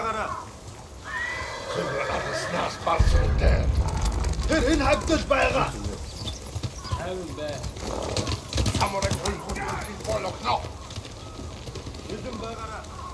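Horses whinny and neigh in the video game Ghost of Tsushima, with hoof clatter and commotion building after a few seconds and continuing at moderate loudness, mixed with voices speaking.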